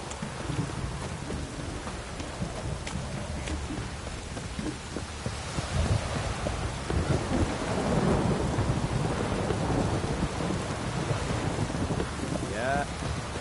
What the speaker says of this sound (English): Downpour's a bastard